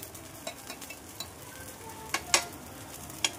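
Sabudana thalipeeth fries in ghee on a hot pan after being flipped, giving a soft, steady sizzle with a few sharp crackles and pops scattered through it, close and fairly quiet, with no talk.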